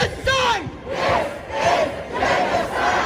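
A loud protest crowd outside the Israeli consulate in Toronto chants in unison, rising and falling swells of many shouting voices repeating in a steady rhythm, close and filling the air.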